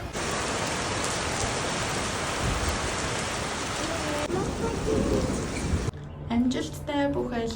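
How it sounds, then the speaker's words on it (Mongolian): Heavy rain pours down in a dense, steady hiss with a thundery rumble, loud and close, then cuts to a quieter stretch where a person talks over lighter rainfall. "Бороо орж штэ вөө."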